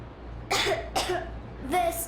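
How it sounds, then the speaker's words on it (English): In the video game Metro Exodus, a child coughs three times in short bursts, close and fairly loud, over a steady low hum. "I have this cough."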